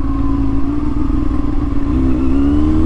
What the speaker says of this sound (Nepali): आफ्नो हात फेरि बसेको बाइक चलाउँदा क्या मजा हुन्छ